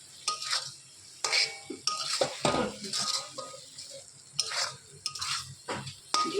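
A spoon stirs a coconut mixture in a wok over low heat, scraping and clinking against the metal in repeated, uneven strokes with a faint sizzle underneath, close and fairly quiet.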